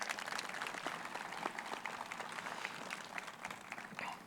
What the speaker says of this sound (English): give him a round of applause for that sermon